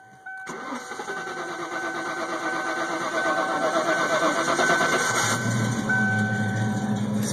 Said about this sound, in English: Let me crank it up right quick.